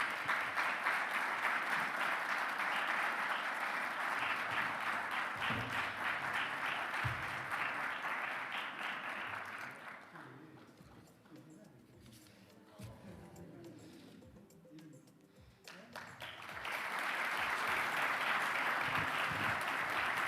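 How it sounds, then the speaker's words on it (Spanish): Audience applause at an awards presentation for Natalio Botana and Daniel Desein: dense, sustained clapping that thins out midway, then swells back to full strength. "Y un aplauso para ambos"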